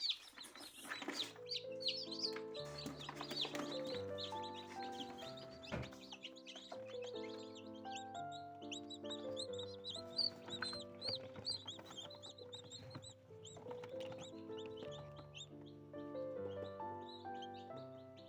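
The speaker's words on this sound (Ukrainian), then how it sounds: "У якомусь із яєць чути писк" High, thin peeping of young chicks, some from inside eggs in an incubator, repeats in quick bursts over a backdrop of sustained tonal sounds, with soft clucking mixed in.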